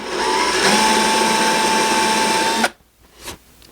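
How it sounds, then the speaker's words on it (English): A power drill countersinks a screw hole in a floating shelf bracket, whirring loud and steady for a few seconds before stopping abruptly, followed by faint handling noises. "going to countersink this very slightly so that the screw is recessed in and it doesn't stick up"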